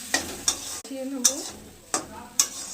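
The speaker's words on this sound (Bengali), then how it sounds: "মিশিয়ে নেব।" Masoor lentil mixture with salt, turmeric and a little sugar is stirred in a hot pan, sharp spoon scrapes recurring about every half second over a soft sizzle.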